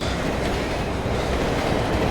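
Train running on rails in a film, shortly before reaching its final stop: a steady, dense rumble of wheels and carriage noise at constant loudness, with no voices.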